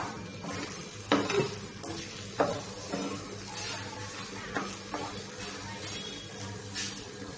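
Aval halwa, a flattened-rice sweet, being fried and stirred in ghee in a pan, with steady soft sizzling under repeated scraping strokes and a few sharper utensil knocks against the pan.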